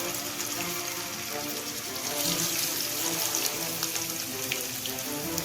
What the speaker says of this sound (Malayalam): അതിലേക്ക് നമ്മൾ മാരിനേറ്റ് ചെയ്ത് വെച്ചിരിക്കുന്ന ചിക്കൻ വിങ്സ് പീസസ് ഇട്ട് കൊടുക്കാം